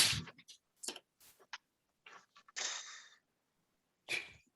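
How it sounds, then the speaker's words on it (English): A small, soft sneeze-like burst followed by scattered quiet breathy sounds and a second short burst near the end; faint and close. "Try a little sneeze."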